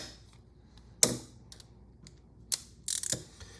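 A wrench on the spindle of a Trail One Vortex bicycle pedal gives a few sharp, close clicks and ratcheting snaps, separated by quiet pauses, ending in a brief burst of rapid clicking.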